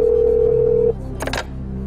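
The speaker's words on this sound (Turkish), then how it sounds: "Çalıyor efendim Mehmet İrez'in telefonu" Telephone ringing during a phone-a-friend call on a television quiz show: a steady tone sounds close and clear for about a second, then cuts off, followed by a brief click and short noise burst over a low studio hum.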